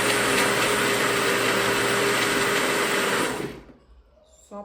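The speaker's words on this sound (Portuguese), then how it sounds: "no liquidificador eu vou misturar." A kitchen blender mixes batter with a loud, steady whirring motor close by for about three and a half seconds, then spins down into near silence. A faint clink follows at the end, and no one speaks.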